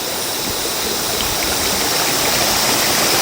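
A mountain stream in the forested Agasthyarkoodam hills of Kerala rushing down into falls, a loud, dense, continuous roar of flowing water close by with no voices.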